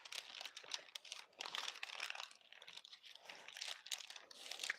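Baking paper is slowly peeled off a baked charcoal matcha sponge for a Swiss roll, making soft, continuous close crinkling and faint tearing with short pauses.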